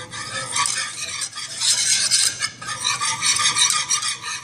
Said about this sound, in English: You're just going to continue to whisk it around.